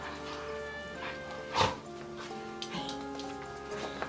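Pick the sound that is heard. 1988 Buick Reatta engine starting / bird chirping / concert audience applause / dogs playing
dogs playing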